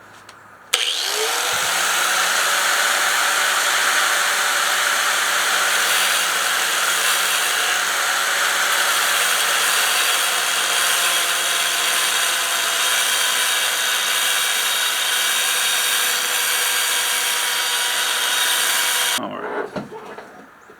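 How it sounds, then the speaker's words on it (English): A grinder runs against railroad spike steel being shaped into a hand-forged oyster shucker, a loud, steady, whining roar that holds for about eighteen seconds before spinning down. "your grinder will tend to grab into this old grind line and this grind line here and this one,"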